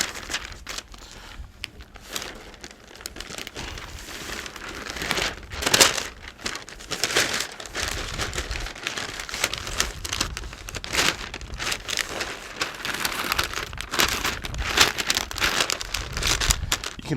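Smoked Texas brisket from an offset smoker being wrapped in wet butcher paper, with steady crinkling and rustling of the damp paper, close and continuous, marked by several louder folding crunches.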